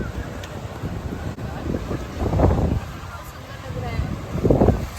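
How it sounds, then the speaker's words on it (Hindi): A breeze blows at Kanyakumari, buffeting the microphone with low, rumbling gusts that swell and fade over several seconds, with a voice faintly present. "यहाँ इतनी प्यारी हवा चल रही है"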